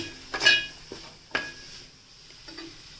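A spoon stirs freshly grated coconut into a moringa leaf vegetable dish in a pan. A few clinks and soft scrapes of the spoon against the metal come at an uneven rhythm, fairly close and moderately quiet.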